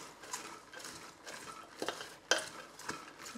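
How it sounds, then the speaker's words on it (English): Chopped vegetables, including red onion, are stirred in a slow cooker, with a spoon scraping and knocking through them in a few close, soft strokes and one sharper clink. "Give that a good stir."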